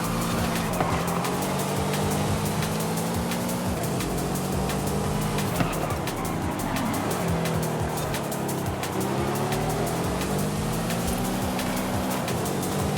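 Mercedes SL65 with a six-speed gearbox held in fourth gear in Forza Horizon 5, a loud steady engine drone rising and falling with throttle, continuous throughout with no talk.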